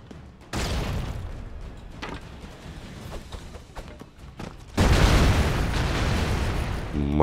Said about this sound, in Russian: Он все взрывает так.